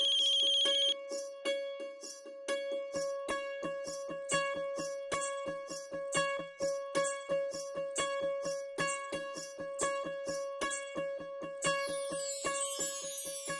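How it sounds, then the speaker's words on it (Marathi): A melodic phone ringtone plays in a steady repeating pattern of short tones, clear and close, continuing for several seconds with no voices. "फोन वाजतोय, उचला की मग"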